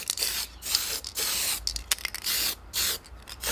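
Spray paint hisses in repeated short bursts onto an RC4WD Trail Finder 2 4x4 truck body, each spray close and steady, separated by brief pauses.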